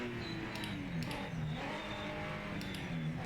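A Chevy race car engine in the Project Motor Racing sim sounds from a distance, revving and shifting under a steady engine drone, with a few brief high ticks over the moderate-level track noise.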